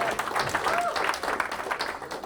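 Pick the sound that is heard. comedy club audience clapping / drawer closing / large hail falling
comedy club audience clapping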